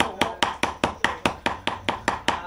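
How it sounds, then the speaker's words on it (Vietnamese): Snake meat chopped with a cleaver to make patties, about a dozen loud, close, evenly paced thuds on a board in a steady rhythm. "đang băm để làm chả"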